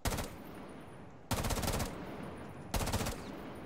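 Three quick bursts of rapid FAMAS rifle fire in a video game, each a short loud rattle separated by brief pauses.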